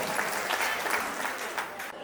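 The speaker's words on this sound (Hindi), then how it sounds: "जोरदार तालियां" An audience at a police line get-together reunion bursts into applause, dense clapping from many hands filling the room, steady and fairly loud before thinning slightly at the end.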